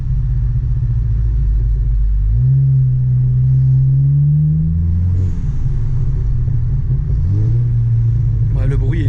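A tuned car engine with a turbo and an external dump valve drones loudly and close by, its deep humming tone rising and falling in pitch as it revs, then settling back to a steady rumble.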